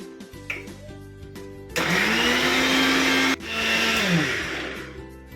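A kitchen mixer grinder whirs loudly in two bursts, blending a cooled masala paste for Kolhapuri misal, with a short pause between runs and rattling as it spins up and down.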